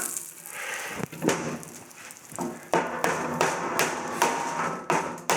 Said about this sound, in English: This bit wouldn't quite go down the last couple of millimetres, so I just chucked it on the floor, put that underneath there and gave it a good old whack